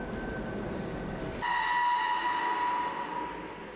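A newly built train creeps forward into a large environmental test chamber. A low mechanical rumble gives way to a sustained, ringing tonal whine, steady and fairly near, with no voices.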